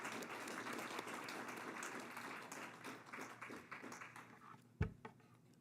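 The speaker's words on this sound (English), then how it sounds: "Let's give them a nice round of applause." Evening satsang audience applauding a group of kirtan singers, continuous crowd clapping at moderate distance that thins out near the end, followed by a sharp thump and a few scattered knocks.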